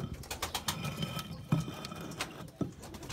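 Pigeons kept in a cage give soft, low cooing calls, mixed with scattered knocks and rustles from inside the enclosure, heard up close in an otherwise quiet space.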